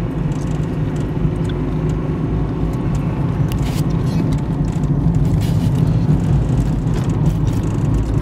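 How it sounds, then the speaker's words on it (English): A 1985 Toyota Supra drives along with a steady, loud engine rumble and road noise throughout, the pitch holding fairly even as it moves through the gears, with no voices. "Going through the gears feels really good."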